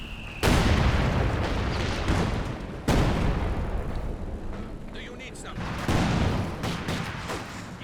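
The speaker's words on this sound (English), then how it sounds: "Just a heavy mortar shell." Heavy mortar shells burst in a Company of Heroes 2 battle, with three loud, near booms that each decay into a rumbling wash of battlefield noise while a voice talks over the action.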